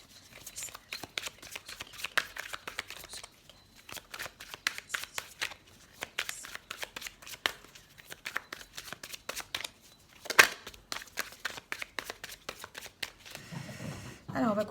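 Oracle cards shuffled by hand for a reading, a long run of crisp riffling and flicking bursts in quick irregular rhythm, close and fairly quiet, with brief pauses and a soft voice near the end.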